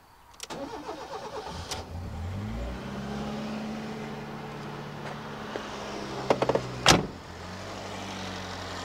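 Car engine cranks and starts, then settles into a smooth, even idle after new sensors and terminals were fitted; a few clicks and a brief rev-like burst come midway, with no voices.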